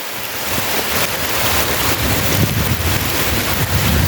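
Rain falls at the Sap Sa Kaeo waterfall near Ban Khao Phlu in Bueng Sam Phan, blending with rushing water into a dense, steady hiss that stays loud and even throughout.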